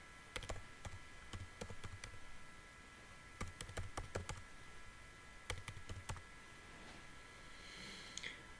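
Bursts of computer keyboard typing as an invoice is entered, quick clusters of key clicks separated by short pauses, close and moderately loud over a faint steady background hum.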